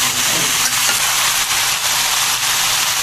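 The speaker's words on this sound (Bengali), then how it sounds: "ভাজা হয়ে গেছে, এখন আমি ঝোল দেবো।" Potatoes fry in a pan with a loud, continuous sizzling hiss that stays close and steady throughout, with no talk.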